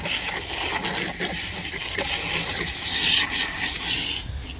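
A hose jet sprays steadily onto a dirty item found lying in a farm yard, a broad continuous hiss of water splashing with no break across the whole stretch.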